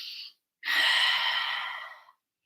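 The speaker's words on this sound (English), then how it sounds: "Take a breath." Deep breathing during an evening yoga flow: a short inhale, a brief pause, then a long, airy, audible exhale that slowly fades, close and clear, with no speech.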